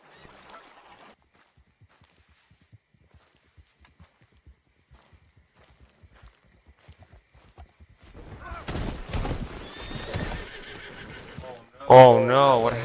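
A horse in Red Dead Redemption gives a loud, sudden whinny near the end, after a long quiet stretch of faint ticks and a burst of louder splashing and movement.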